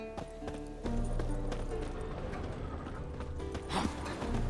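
A purebred warhorse in the game The Witcher 3: Wild Hunt, hooves clip-clopping steadily at close range, then a short whinny near the end, with faint voices underneath.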